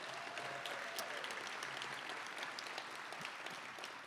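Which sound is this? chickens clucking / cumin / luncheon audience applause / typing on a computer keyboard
luncheon audience applause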